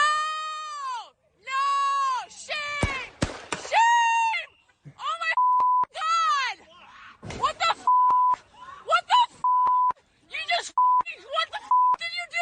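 Censorship beeps over profanity in police audio: several short steady tones, about a second each, cut in repeatedly between shouted voices and talk, fairly loud and close.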